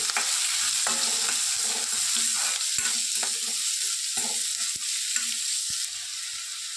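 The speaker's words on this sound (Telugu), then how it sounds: "ఆనియన్స్ని ఒక 2 మినిట్స్ వేయిస్తే చాలండి." Two large chopped onions fry in a pan with a steady, hissing sizzle, broken now and then by soft clinks and scrapes of stirring. No one speaks.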